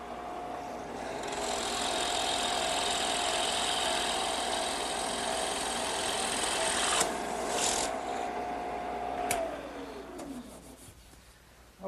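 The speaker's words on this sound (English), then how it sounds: "I just put a 1-inch bit in my drill press" A steady drill press whine with a grinding, rasping bite runs for several seconds, then the motor winds down and stops; a 1-inch bit boring into wood, close by.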